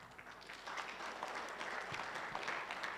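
A graduation audience applauds, a steady mass of clapping that swells slightly after the opening and holds at a moderate, somewhat distant level throughout.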